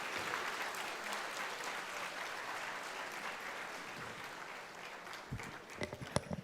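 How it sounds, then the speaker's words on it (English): Applause from a conference audience for the chief guest, a continuous wash of clapping that thins toward the end, where a few louder individual claps stand out. "A huge round of applause"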